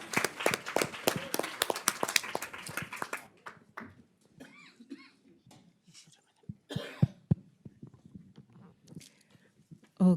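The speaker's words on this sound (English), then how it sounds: "I just want to give another round of applause to Dr." An audience at a women-in-philanthropy panel gives a round of applause for the guest, a dense clatter of clapping for about three seconds that fades into scattered claps, coughs and low murmurs.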